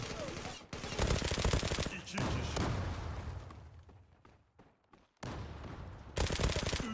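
Rapid automatic gunfire from the online shooter game Zula crackles in dense bursts, loud and close, pausing briefly before another volley erupts, with a voice speaking faintly beneath the shooting.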